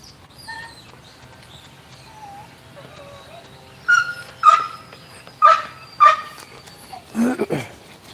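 Bubba, a dog, lets out a burst of close, loud barks and yelps in an uneven cluster of about six, after a quieter stretch of faint whines and chirping sounds.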